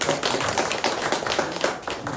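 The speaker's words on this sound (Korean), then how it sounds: "KT 세노조 조합 박수 보내주십시오." An audience at a union retirement ceremony applauds with brisk, continuous clapping, close and fairly loud throughout.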